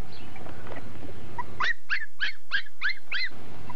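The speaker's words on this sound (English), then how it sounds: "look at the baby puppies" A litter of seven newborn puppies gives about six high, rhythmic whimpering squeals in quick succession, close and clear after a moment of low background murmur.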